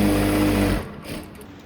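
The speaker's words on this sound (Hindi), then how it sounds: "तो इस तरीके से पकड़ के स्टिच लगा लेंगे।" A sewing machine stitches a seam on a salwar in a brief loud mechanical whir that stops abruptly partway through, followed by quiet handling noise.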